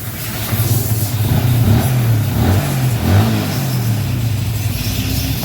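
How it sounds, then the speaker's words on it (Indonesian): Yamaha Vixion R motorcycle with an Er-1 error code fault, its engine running with a steady, fairly loud mid-pitched idle that swells briefly a few times, close by with no talking. "Coba kita nyalakan lagi mesinnya. Nah, kadang dia hidup."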